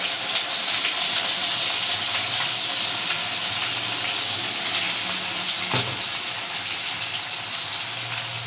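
Ground spice paste hits a hot pan for an egg korma and sizzles in a loud, steady, hissing fry that holds unbroken throughout, with one soft clunk midway.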